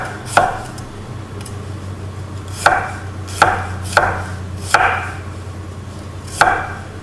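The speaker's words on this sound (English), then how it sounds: "So I'm cutting it very thinly" A knife slices vegetables very thinly on a cutting board for a beetroot salad, giving about six crisp, close chops spaced irregularly over a low background hum.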